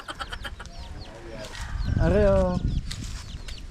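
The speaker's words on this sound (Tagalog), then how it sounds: "Mapapatinola tong mga manok na ito." Chickens cluck and squawk nearby, with one longer rising call in the middle, while people talk briefly in the background.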